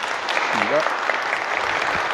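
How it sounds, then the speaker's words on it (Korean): Audience at a church lecture hall applauding a professor's talk, continuous steady clapping throughout, moderately close. "다시 한번 큰 박수"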